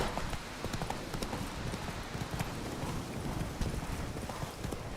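Hooves of Roach, a horse in The Witcher 3 video game, pound out a fast galloping clip-clop rhythm, steady and close, continuing throughout.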